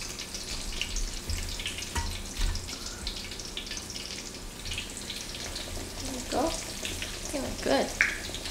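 Tempura deep frying in oil, a steady close sizzling crackle with occasional clatter, and a voice talking intermittently over it.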